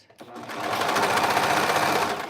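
A sewing machine runs in one steady, fast burst of stitching through stretched knit tee fabric, close and loud, with no talk over it.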